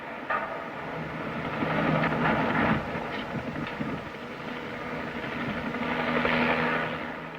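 A helicopter rotor drones steadily in a scene from the 1973 film The Crazies, a loud, continuous whooshing roar with wind-like rushing that swells and ebbs, with no voices.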